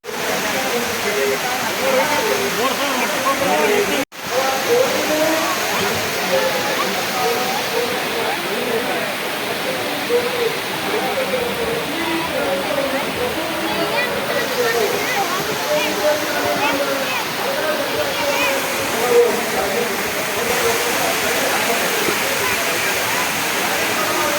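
Heavy rain pouring down at the Dharwad farmers' fair, a loud, steady, roaring wash of water that holds constant for the whole stretch apart from one brief dropout early on.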